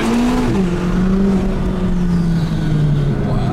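McLaren 570GT engine accelerating with the turbo coming in while driving a road up a volcano, a loud, steady engine drone rising and falling in pitch, with people talking over it.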